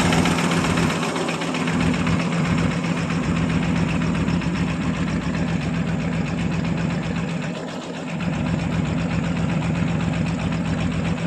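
A 1959 Buick Electra's 401 Nailhead V8 idles with a loud, steady low rumble, dipping briefly in intensity partway through before settling back, with no voices.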